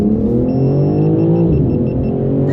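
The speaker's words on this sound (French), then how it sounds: "avec un beau bruit d'échappement" BMW engine revving loudly, its exhaust note rising in pitch in a smooth acceleration, then easing off slightly, heard close up with no talking.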